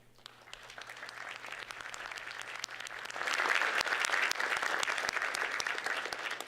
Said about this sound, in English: It's good practice because I'm sure there will be many more rounds of applause this morning.